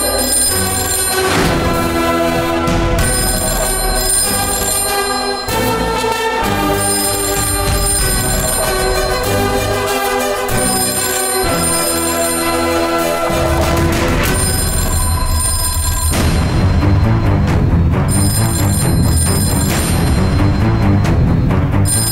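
A landline telephone ringing in a home, steady repeated electronic ring tones sustained loudly for a long stretch, with no talk heard.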